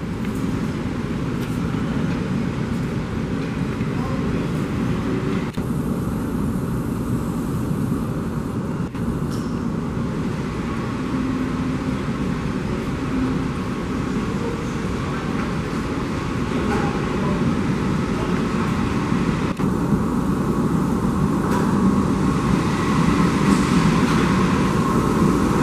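A subway train pulls into the South Ferry terminal station, a long steady rumble and hum of the arriving cars echoing in the underground platform with occasional clanks.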